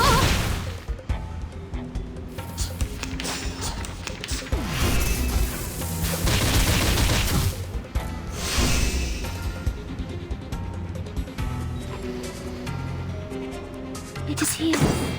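Rapid barrage attack in the anime-style game Reverse 1999, with dense crashing, thudding impacts and booms layered over music and game voices throughout.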